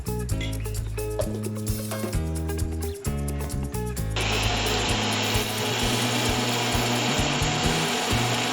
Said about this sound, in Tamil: வெங்காயம், இஞ்சி, பூண்டு, பட்டை, கிராம்பு, வரமிளகாய் எல்லாம் போட்டு மிக்சியில் அரைச்சிக்குங்க.